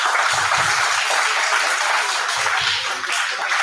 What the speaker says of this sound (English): Can we have a huge round of applause for Ria?